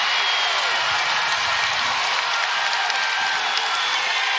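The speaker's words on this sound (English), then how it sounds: "This crowd is just begging." Arena crowd at an Iowa versus Iowa State NCAA women's basketball game, a steady, far-off wash of cheering and crowd noise that holds for several seconds.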